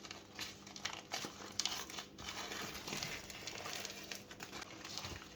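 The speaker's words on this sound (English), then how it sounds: "Just taking the parchment paper off it." Parchment paper peeled away from a freshly baked lemon Swiss roll on a kitchen counter, giving soft continuous crinkling and crackling with small tearing bursts, close and fairly quiet.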